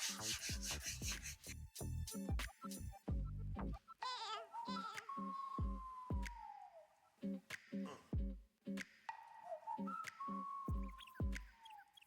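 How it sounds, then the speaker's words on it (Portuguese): Sandpaper is rubbed back and forth over pyrographed wood, the burnt surface giving a close, loud scratchy scrape in repeated strokes with short pauses between them. "E você volta a dar mais uma lixada."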